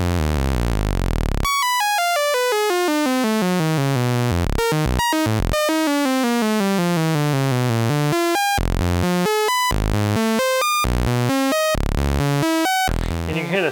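A Roland SH-7 synthesizer's sample and hold follows a sawtooth wave, producing fast stepped tones that fall in repeated ramps before breaking into choppy random bursts, loud and continuous with no talking.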